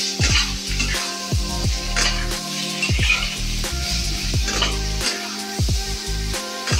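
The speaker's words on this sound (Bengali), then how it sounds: "5-10 মিনিট নাড়াচাড়া করতে হবে তেলের মধ্যে" Raw mango pieces frying in oil with mustard seeds and chilli for a green mango chutney, a steady close sizzle with repeated sliding scrapes and knocks of a spatula stirring through the pan, over a low background hum.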